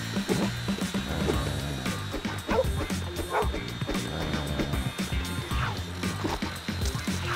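A guard's dog in the LEGO City Undercover video game barks repeatedly with short yips over busy game music and effects, fairly loud and close throughout.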